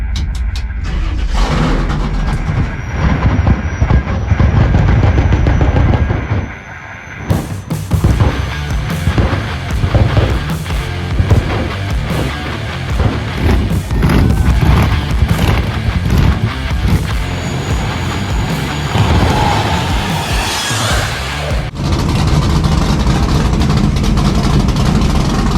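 Drag racing cars, among them a 700HP C10 at the Foxhunt event, roar loud and close with engines revving and droning, a brief dip, then sustained blasting acceleration throughout.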